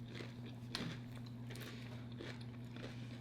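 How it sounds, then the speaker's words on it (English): Crunchy battered fried flounder is bitten and chewed close to the mic, with several crisp crunches spread over a few seconds against a low steady hum. "this batter got a crunch on it"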